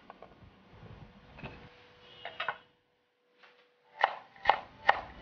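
A knife chopping mushrooms into small pieces on a cutting board, with a few light taps, then three crisp, evenly spaced chops near the end, close and quiet.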